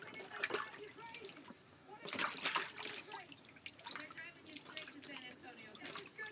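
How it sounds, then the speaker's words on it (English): Bathwater splashes as a baby slaps and sloshes in the tub, close by, in irregular bursts and drips with quiet voices nearby. "He splashed you?"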